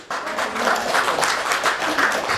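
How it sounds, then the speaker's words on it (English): An audience applauds Miss K at a charity gala for the Juliana Asthma Cause at the London Hilton, Holland Park: sustained, dense clapping from a crowd in a large room, fairly loud and steady throughout. "Everybody, please put your hands together for Miss K."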